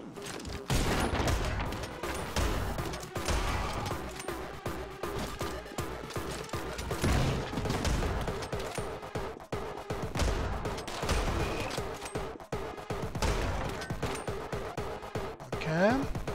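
Rapid Uzi gunfire in the video game Anger Foot crackles in dense bursts with crashes and mechanical clatter, and someone talks over the shooting.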